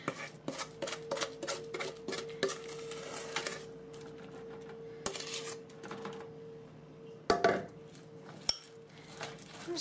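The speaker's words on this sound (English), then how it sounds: "we'll use the back of our spoon to spread it" A spoon's back scrapes and taps as it spreads thick vegan apple cake batter across a baking pan: soft, irregular clicks and smears, close and fairly quiet, with no talking.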